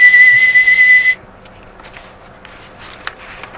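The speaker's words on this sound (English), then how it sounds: "And my tea kettle whistles." A tea kettle gives a loud, steady, shrill whistle for about a second, then cuts off, leaving faint scattered thumps and light movement sounds.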